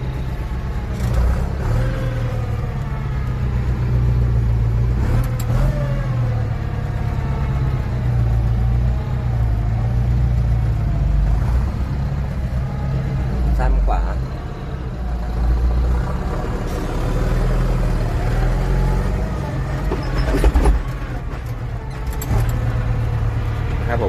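A TS90 truck engine drones loud and close, rumbling low and steady while gears are shifted, its pitch rising and falling as the revs change. Clunks and brief knocks come from the gear changes.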